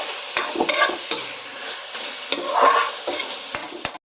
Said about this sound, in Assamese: তাৰপিছত মাংসখিনি ইয়াতে দি দিলোঁ, এইখিনি ধুনীয়াকৈ ভাজিম